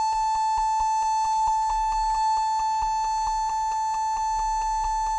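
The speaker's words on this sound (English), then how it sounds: "I don't know why it's beeping." A steady electronic tone with a rapid series of repeated beeps over it, loud and constant, as a Compaq Presario F500 laptop beeps on startup.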